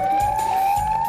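A police siren from the Minecraft video game wails in a steady, loud, continuous tone that slowly rises and falls. It plays alone without a break.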